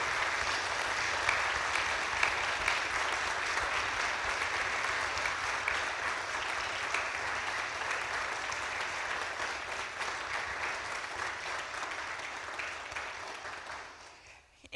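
A church congregation applauds in a sustained round of dense, steady clapping during a congregational meeting, holding even for most of the stretch before tapering off at the end.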